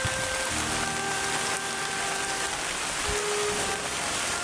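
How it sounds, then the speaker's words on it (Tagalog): Heavy rain pours steadily over a mountain area, a dense continuous hiss with scattered drops and faint background tones, close and unbroken throughout. "Ulan."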